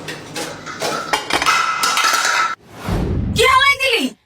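Metal cooking pots clatter and bang as they are tossed down in a kitchen, a run of sharp clanks and scrapes up close, followed by a louder jangling crash.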